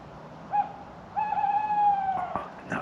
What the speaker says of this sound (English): The old tawny owl.